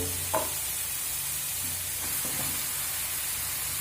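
Grated beetroot with ginger frying in a pan over low to medium gas, giving a steady soft sizzle with a couple of brief stirring scrapes, close and fairly quiet.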